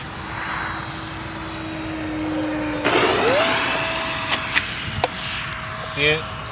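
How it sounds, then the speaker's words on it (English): An RC electric ducted-fan jet model plane makes a touch and go at an RC field, its steady whine swelling into a loud, rising pass overhead, while a voice speaks faintly alongside. "I'm gonna do a touch and go, Lori."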